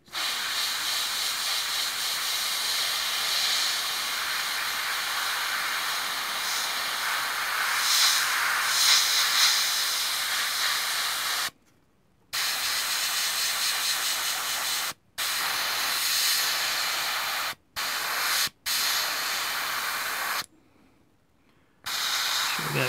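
An airbrush sprays paint onto a model Focke-Wulf aircraft with a steady, close, airy hiss that runs nearly unbroken, stopping briefly a few times and then resuming.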